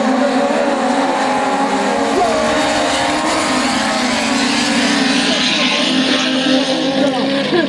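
Eight Formula Bonaerense race cars start the final together, a loud, dense roar of high-revving engines that holds steady throughout.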